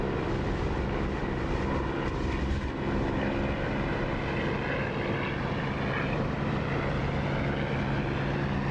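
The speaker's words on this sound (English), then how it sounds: "Just listen to that engine with the canopy open." A propeller aircraft engine in a flight simulator game drones loudly with the canopy open, a constant buzzing roar with airy wind noise that holds steady from start to finish.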